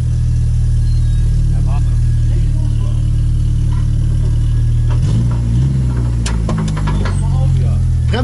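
An Opel Corsa A GSI race car engine fires up after ten years of standing, a loud, steady low idle rumble suddenly surging into sharp revs and crackles, with people talking nearby.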